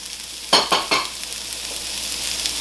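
Carrot and celery stir-fried in a hot pan for Singapore style noodles, giving three quick scraping stir strokes with a light sizzle continuing underneath, close and moderately loud, no talking.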